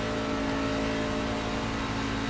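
Steady, loud engine drone of a NASCAR truck in the iRacing sim on a Texas oval, held at a constant high-revving pitch with no breaks.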